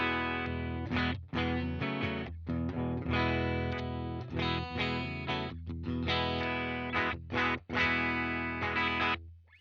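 A Squier Starcaster electric guitar plays rhythmic chords through a Friedman BE-OD pedal setup into a Universal Audio Dream amp on a greenback cab, with bright sustained strums cut by short choppy stops, close and loud.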